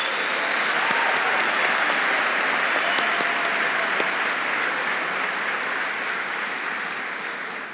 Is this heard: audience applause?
yes